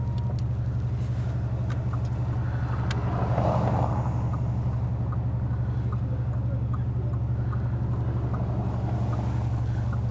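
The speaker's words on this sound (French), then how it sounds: "entendre cette belle sonorité évidemment. du V8 biturbo." Bentley GT V8 biturbo running in sport mode, a steady deep engine drone heard from inside the car, with a brief swell of exhaust rumble near the middle and no talking.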